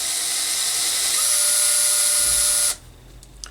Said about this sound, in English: get my drill with a 3mm bit in, and we just need to drill halfway through